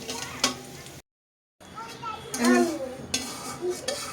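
Cauliflower frying and being stirred in a pan, with soft sizzling and the scrape and clink of a utensil against the pan under nearby talk. The sound breaks off briefly partway through.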